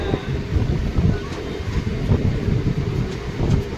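Steady low rumble and rhythmic clatter of a MEMU passenger train on the Rampurhat–Jasidih hill line in Jharkhand, crawling around a curve in the monsoon, with wind buffeting the microphone throughout.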